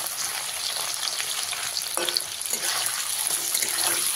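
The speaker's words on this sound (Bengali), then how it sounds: "হালকা নেড়ে চেড়ে পনিরগুলো ভেজে নিতে হবে।" Loud, even sizzle of paneer frying in oil, with a couple of soft scraping stirs partway through.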